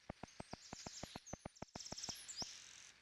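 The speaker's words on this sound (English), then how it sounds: "There's just birds chirping in the blue sky." Bird chirps from a Mario video game level: a quick series of sharp, evenly spaced clicking tweets, about a dozen in a row, with higher whistling calls overlapping near the end, quiet and without voices.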